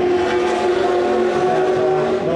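Racing car engine revving at very high rpm, a sustained loud, close, high-pitched scream that holds steady across the whole stretch.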